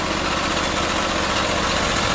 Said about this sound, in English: Second engine, hit that, and that'll fire that one up.